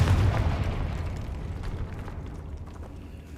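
A Confringo spell blast in the video game Hogwarts Legacy: a heavy, deep explosive boom up front that rumbles and decays over a few seconds, loud and alone.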